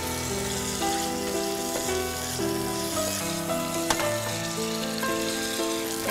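Steady, close sizzling and crackling of white tofu frying in a pan until golden, with faint background tones running underneath throughout.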